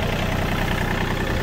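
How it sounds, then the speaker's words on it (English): A tractor engine runs in a steady, dense rumble at close range, loud and even for the short span, with no talking over it. "I saw her run out here and jump on the tractor and get it going."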